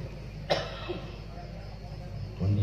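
A preacher coughs once in the middle of a sermon at a large religious gathering at an Islamic boarding school in Bogor. The cough is short and sharp, with a quieter throat sound after it, and speech comes back near the end.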